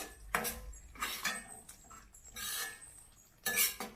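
A spoon scrapes and knocks around a pan while egg masala is mixed, producing several rhythmic clanking strokes, fairly close and quiet, with no speech.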